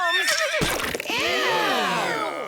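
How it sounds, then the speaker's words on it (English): A cartoon mule lets out a loud, close whinny with a rising squeal and wavering bray-like tail, heard alone. "That's not a horse, that's a mule."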